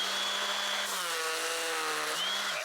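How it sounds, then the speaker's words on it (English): Electric sander running at home, a steady loud mechanical whine with a constant pitch that dips slightly midway and winds down at the end, heard alone without talk. "Just let the sander do the work"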